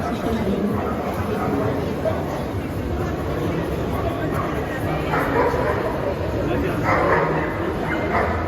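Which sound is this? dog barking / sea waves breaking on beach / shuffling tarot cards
dog barking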